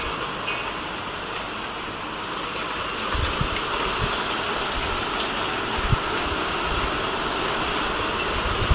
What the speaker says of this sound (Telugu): వర్షం చూడండి ఎలా పడుతుందో